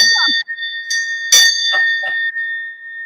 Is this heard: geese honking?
no